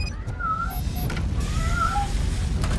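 A cat meows in the video game Robocop: Rogue City, with two drawn-out, fairly clear mews over a steady, loud background of game rumble and noise.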